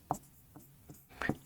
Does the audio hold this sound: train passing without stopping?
no